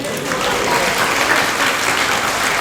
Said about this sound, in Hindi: ताली नहीं बजा रहे हो आप?